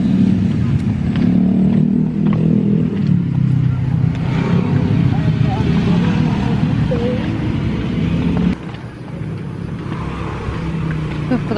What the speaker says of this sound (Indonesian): Depan tuh udah jalan raya, udah rame banget.